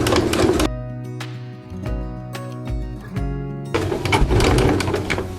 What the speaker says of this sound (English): we're going to back stitch at the beginning and end